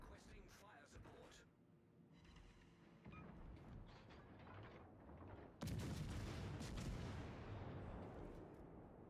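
Artillery fire support strike in a tank-battle video game: after quieter rumbling and radio-style chatter, a heavy booming barrage hits abruptly and rolls on loudly, slowly fading.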